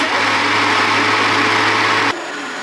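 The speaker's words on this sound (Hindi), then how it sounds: "दाल और चावल को अलग अलग पीसना है" Electric food processor motor whirring steadily as it grinds soaked dal and rice into dosa batter, a loud continuous high whine that drops in pitch and level near the end as the blades slow.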